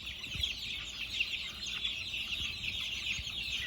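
A brood of baby chicks peeps continuously in soft, high, overlapping chirps, fairly quiet and steady throughout.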